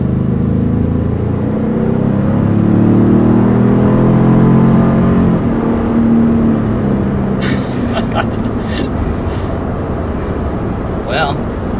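A 2020 Ford Expedition Max Platinum with a 400 horsepower engine accelerating on the road, a loud steady engine roar and rising drone heard from inside the cabin, with some brief higher clatter near the end.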